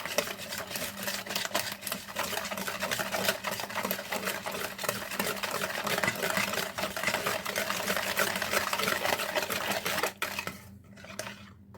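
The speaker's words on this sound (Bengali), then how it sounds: "কিন্তু এখানে এই কেকের ক্ষেত্রে সব একসাথে করে ফেটিয়ে নিতে হবে" Wheat flour cake batter, all ingredients together, is whisked in a continuous fast clatter of a utensil beating against a bowl, steady and close for about ten seconds before it stops.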